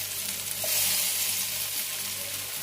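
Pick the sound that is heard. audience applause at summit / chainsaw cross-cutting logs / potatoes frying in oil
potatoes frying in oil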